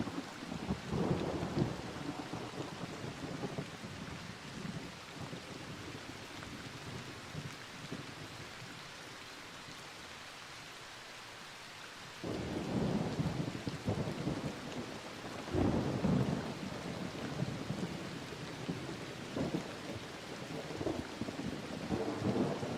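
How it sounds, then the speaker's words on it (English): An electromagnetic thunderstorm rages over the outdoor map in the video game Arc Raiders, with steady rain hiss and deep rolling thunder swelling in several heavy bursts, quieter midway before building again. "an electromagnetic storm is currently raging over topside. Beware the lightning strikes if you're outdoors."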